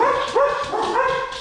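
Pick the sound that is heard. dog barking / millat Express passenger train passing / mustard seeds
dog barking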